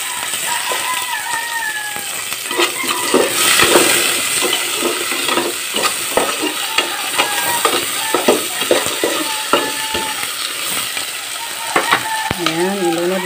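Spices being sautéed in a pan while cooking fish, a steady close sizzle with frequent scraping and stirring clicks of a utensil against the pan throughout.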